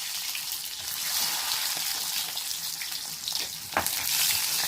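Two onions frying in oil with fenugreek and dried red chilies for tempering, a steady broadband sizzle with soft scraping stirs and a brief louder crackle near the end, close and continuous with no talk.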